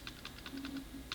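Keys tapped on a graphing calculator, a quick run of about eight faint, close, evenly spaced clicks in under two seconds with no talk.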